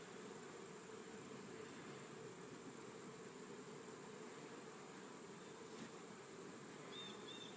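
Steady, continuous buzzing of many honeybees close by around a hive, a constant droning hum that never breaks, with a faint high tone over it.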